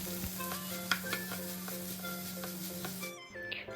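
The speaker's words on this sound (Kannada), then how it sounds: "1/2 ಕಪ್ಪಷ್ಟು ಕ್ಯಾರೆಟ್, 1/2 ಕಪ್ಪಷ್ಟು ಕ್ಯಾಬೇಜನ್ನು ಹಾಕಿ ಚೆನ್ನಾಗಿ ಮಿಕ್ಸ್ ಮಾಡಿ." Carrot and cabbage are stirred into a sizzling pan for a chicken katori filling, with a spoon scraping and tapping in a loose rhythm over a constant frying hiss before it suddenly cuts off.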